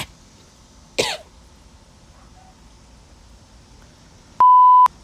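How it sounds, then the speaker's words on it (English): A single sharp cough breaks a quiet room, followed after a pause by a brief loud electronic beep. "having a hard time talking because coughing"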